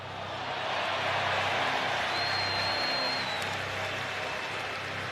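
Crowd noise at a Major League Baseball game between the Pittsburgh Pirates and Chicago Cubs, a steady loud roar of fans reacting to a catch made in the stands, with a brief whistle rising over the swell.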